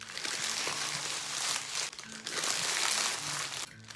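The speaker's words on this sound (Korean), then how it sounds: "비닐을 이렇게 넣어주시면 플로럴 폼이 고정이 돼요." A plastic sheet crinkles and rustles close by as it is stuffed around floral foam in a wide flower basket, with irregular crackling bursts and brief pauses.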